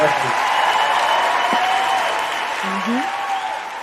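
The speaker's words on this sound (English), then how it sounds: "I'm going to definitely give you a round of applause on that." Applause fills a radio studio, a steady wash of clapping that holds level throughout, with a few faint voices underneath.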